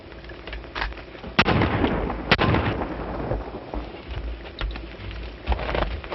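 Two sharp gunshots crack out about a second apart, loud and close, over a constant crackly hiss in an old western film about a dude bandit, with trick shooting at a man's shirt tail.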